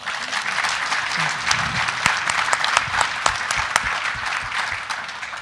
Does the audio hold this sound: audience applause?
yes